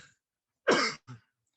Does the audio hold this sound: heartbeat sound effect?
no